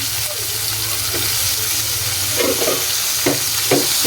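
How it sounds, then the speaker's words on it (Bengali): Potato and carrot fry with meat in a pan for a quick vegetable dish, giving a close, steady sizzle with scraping stirs and occasional wet bubbling pops, and no talking. "এটা এখন একটু ভেজে নেব মাংসের সাথে সুন্দর করে"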